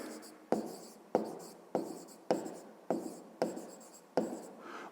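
A pen writes a math exercise on paper in seven quick, evenly spaced scratchy strokes, each starting sharp and fading, close and quiet with no talk.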